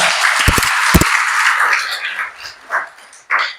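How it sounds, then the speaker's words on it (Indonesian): A church congregation claps and cheers during a Christmas sermon, loud dense applause that fades out over a few seconds into scattered claps. "Saudara bisa berikan tepuk tangan buat Tuhan."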